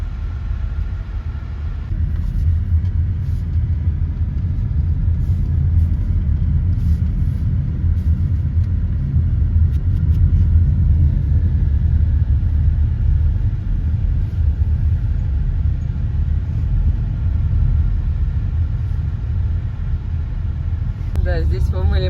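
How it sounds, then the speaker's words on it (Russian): A large truck labours up a winding mountain serpentine road near Sochi, heard as a deep, continuous engine rumble from nearby, with people talking over it. "Ну, вот как раз большая фура."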